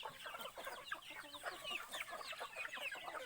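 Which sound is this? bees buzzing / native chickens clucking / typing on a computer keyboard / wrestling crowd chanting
native chickens clucking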